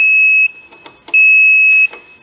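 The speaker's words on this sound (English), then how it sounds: "If you just wish to silence the alarm, you can just press this button." A Comap AMF20 generator controller gives loud, piercing electronic alarm beeps in two long sustained tones, broken by a few soft button clicks close by.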